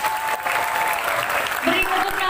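Audience applause at a school student council (OSIS) candidate debate, steady broadband clapping filling the whole stretch, with a voice faintly audible over it.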